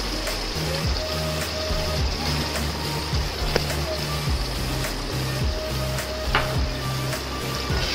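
Yogurt goes into sizzling masala for Hyderabadi stuffed achari bhindi, a dense, steady frying hiss close by with light stirring clicks throughout.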